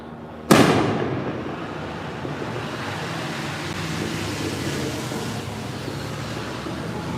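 A single sharp July 4th firework blast goes off near the start, followed by a long rumbling, crackling wash of distant bursts that continues steadily.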